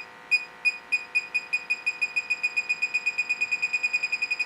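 Gas leak detector held at the gas shut-off of a Rheem furnace gives rapid, evenly spaced high-pitched beeps that speed up into a fast steady pulse, close and clear, with no talk.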